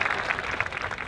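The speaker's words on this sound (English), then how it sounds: "that deserves an applause" Applause at a high school graduation farewell: a brief, steady wash of clapping from a crowd, moderately loud.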